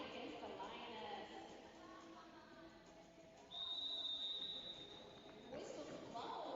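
A referee's whistle blows once at a roller derby bout, one sustained shrill blast mid-clip over steady crowd chatter and an announcer talking.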